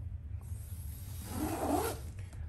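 A zipper slides closed on a soft travel tote bag, close and quiet. A steady rasping pull lasts about two seconds and grows a little louder near the end, with no voices.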